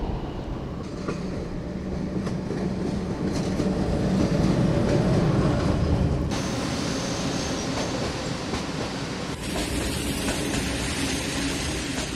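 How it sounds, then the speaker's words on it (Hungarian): A train on the Debrecen–Nyírbátor railway line passes close by with a loud, steady rumbling roar and rail clatter that swells midway and then eases slightly, with no voices. "Miért veszed fel ilyenkor, hogy jön a vonat?"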